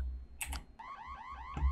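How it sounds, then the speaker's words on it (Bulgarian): A video game alarm set off by pressing a button sounds as a repeating electronic warble, rising and falling in quick cycles after a couple of sharp clicks, fairly loud and close. "Това е аларма!"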